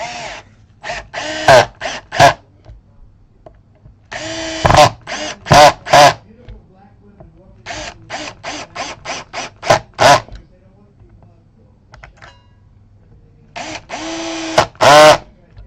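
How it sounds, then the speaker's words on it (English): An electric drill whirs on a Fender Mexican-made Jazz Bass in short bursts and longer runs, starting and stopping repeatedly, loud and close, with quiet gaps between. "using your drill on a bass"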